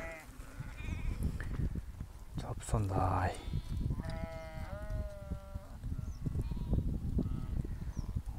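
Village sheep and goats bleat near a newly dug well, several drawn-out wavering bleats rising over outdoor background noise while someone speaks nearby.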